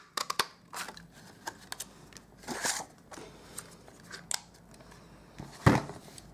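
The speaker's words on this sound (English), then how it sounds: "I'll just grab my tailored tag punch" Crafting punch cutting a tag shape out of cardstock for a handmade card, heard as a series of short sharp snips and crunches of varying loudness, close up, with no talking.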